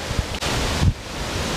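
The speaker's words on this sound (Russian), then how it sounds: "Такая волна не очень приятная." Waves on a lake during a spearfishing trip, a continuous choppy wash of water with wind buffeting the microphone and a couple of heavier slaps, loud and close.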